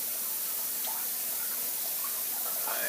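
Water runs steadily during a 15 to 20-gallon water change on a saltwater aquarium with a sump, a constant hiss with faint trickles and splashes.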